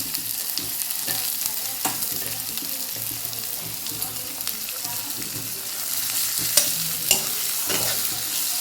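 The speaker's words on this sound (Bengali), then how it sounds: "পেঁয়াজটা একটু ভাজা ভাজা করে নেব মানে একটু ব্রাউন ব্রাউন হবে" Chopped onions sizzle steadily in a pan while being stirred, the frying hiss continuous with occasional scraping clicks from the spoon; no talking.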